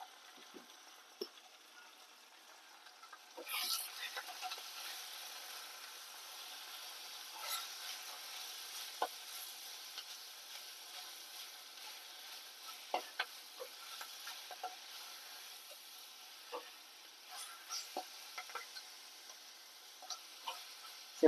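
Moringa leaves fry with moong dal and salt in a pan, a faint, quiet sizzle broken by light clicks and scrapes of stirring at an irregular pace.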